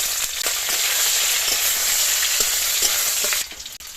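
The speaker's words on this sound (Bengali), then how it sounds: "কড়াই দিয়ে দেবো সর্ষের তেল, দিয়ে দেবো 5 ফোড়ন, পেঁয়াজ কুচি" Chopped onion and five-spice seeds hit hot mustard oil in a wok, giving a loud, steady sizzle that runs without a break. A few faint clinks sound over it before the sizzle drops away near the end.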